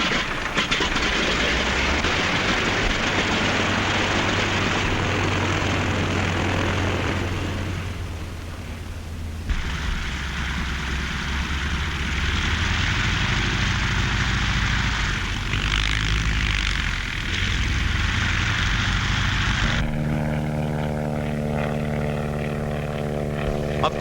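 Vintage propeller airplanes from the 1935 sky-advertising era drone steadily with a loud, continuous engine roar that dips briefly before resuming, then shifts to a smoother tonal hum near the end.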